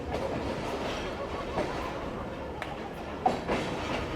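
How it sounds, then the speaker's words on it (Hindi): The Tezgam passenger train pulls out of Mehrabpur railway station at night, a faint steady rumble with soft clickety-clack and a few light clunks heard from on board. "तकरीबन 20 मिनट रुकने के बाद ट्रेन हमारी फाइनली निकल रही है 1:10 पर मेहरापुर रेलवे स्टेशन से।"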